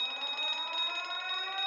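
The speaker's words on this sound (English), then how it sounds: "We got all kinds of alarm bells going off." Alarm bells going off aboard a vessel, a continuous shrill ringing tone that holds steady and loud throughout, with no speech over it.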